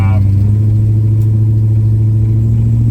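A 1958 Dodge Forward Look with a big block Mopar engine and Holley Sniper EFI cruising, its loud, steady low rumble constant throughout the interior, with someone talking over it.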